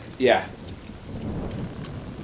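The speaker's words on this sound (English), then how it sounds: "it's fucking pouring rain out." Pouring rain in the video game Toby: The Secret Mine, a steady soft hiss of rainfall continuing after a brief spoken word at the start.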